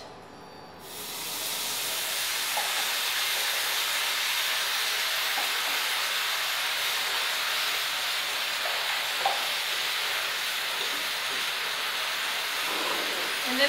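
Sauce poured into a hot pan of tofu scramble erupts into a loud, steady sizzling hiss that starts abruptly and holds strong and close for over ten seconds.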